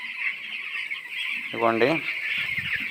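Chicks in a 13-day-old poultry batch on a farm, with a constant chorus of high peeping throughout and a brief louder squawk partway through, while a person speaks briefly.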